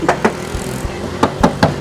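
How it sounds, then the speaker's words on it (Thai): Knuckles rap on the glossy black metal body of a pickup truck parked in Si Racha, Chonburi, giving a few sharp, close knocks in quick groups over a faint background hum. "ลองเคาะดูครับ"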